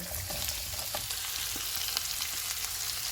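Whole spices, including black peppercorns, cloves, cumin seeds and black cardamom, fry in a pan with onions for mutton gravy. A steady, dense sizzle and crackle continues at low volume throughout, with no voices.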